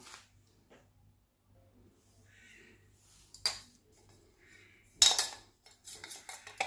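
A spoon scrapes and clinks against a dish holding dehydrated tomato powder. Quiet, scattered taps come first, then a sharp clink and a cluster of scraping clatters near the end.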